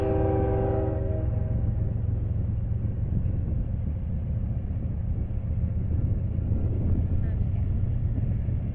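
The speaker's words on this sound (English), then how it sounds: "Norfolk Southern engine number 8050, coming from a complete stop on the siding" A Norfolk Southern freight locomotive pulls away from a stop on a siding, a steady loud diesel rumble throughout, with a brief horn-like tonal burst at the very start and a faint squeal later.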